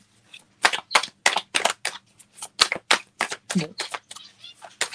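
A deck of cards is cut and shuffled for a card reading, giving a close, rapid series of crisp snapping riffles and slaps in an irregular rhythm.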